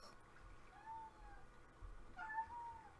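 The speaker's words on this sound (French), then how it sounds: "j'ai un chat qui parle." A cat meows twice, quietly and at some distance, each call a drawn-out rising and falling tone with a short pause between them, over faint low background noise.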